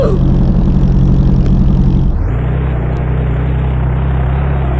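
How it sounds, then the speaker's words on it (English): A car engine in a Roblox racing video game drones steadily at high revs, then drops to a lower, smoother idle-like hum partway through, loud and continuous with no talk. "Let's up the volume a bit so you can hear how this car sounds."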